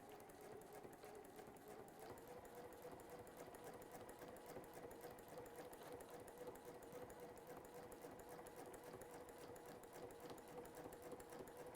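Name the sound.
sewing machine needle punching through Bonder web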